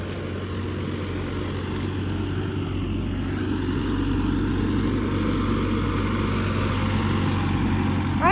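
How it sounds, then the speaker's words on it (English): A John Deere tractor plowing a field drones steadily at a low pitch, fairly close and constant, with a faint high ringing tone above it and no voices. "Right now, Dad is plowing with his John Deere tractor."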